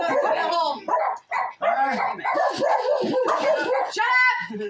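Dogs bark and yip close by in a busy household, with excited people talking and shouting over them; the barking comes in irregular bursts throughout.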